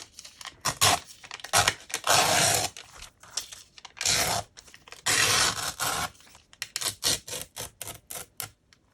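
Paper torn by hand while making handmade ephemera pieces, a run of close rasping rips in bursts, some long and some short and choppy, with no talking.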